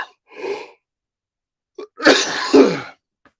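A person who has been sick for weeks coughs, a soft cough followed by a brief catch and then a loud, harsh, drawn-out burst of coughing near the microphone, with no talking.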